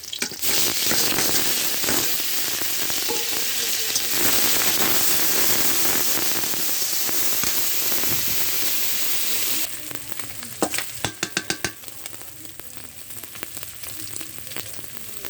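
Turmeric and dried chili powder sizzle and fry hard in a hot pan, a dense steady crackle that later drops to quieter scattered pops and spits, with no talking.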